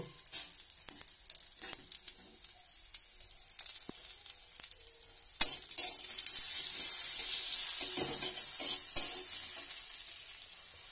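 Cumin and mustard paste frying in a pan while being stirred, a steady hiss of sizzling with scraping stir strokes that grows louder and denser in the second half, no voices.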